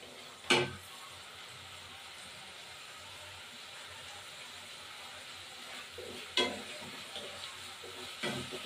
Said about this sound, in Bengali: পেঁয়াজটা ভাজা হোক, তারপর ফিরে আসছি